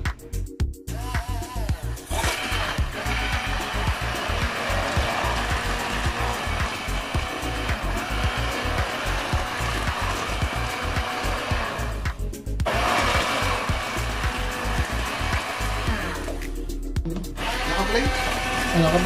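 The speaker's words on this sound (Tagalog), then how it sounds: "I-blender naman natin yan." A kitchen blender whirs loudly and continuously as it purees ingredients for a spicy Cajun seafood sauce, with a few short pauses and pulses between runs.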